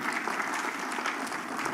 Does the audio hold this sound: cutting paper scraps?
no